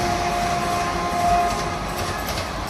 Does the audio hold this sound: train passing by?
yes